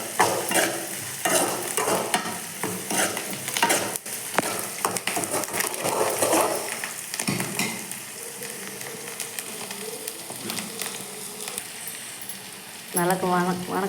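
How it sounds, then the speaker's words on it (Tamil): Onions fry in a pan with asafoetida and curry leaves for a lentil-dumpling curry. A steady close sizzle runs throughout while a spoon repeatedly scrapes and stirs the pan. "நல்லா வெங்காயத்தை சிவக்க வணக்கிக்கணும்"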